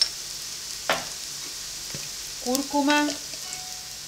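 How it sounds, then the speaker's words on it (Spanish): Onion and garlic sizzle in hot oil on a plough-disc pan for a seafood paella, a steady broadband hiss with a few clinks of a utensil and a brief spoken word over it. "Una vez que ya está caliente el aceite, tiramos la cebolla y el ajo."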